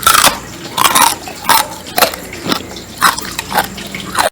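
Loud, close crunching of crispy homemade fried pork rinds (chicharrones), about eight bites and chews in an uneven rhythm with no talking.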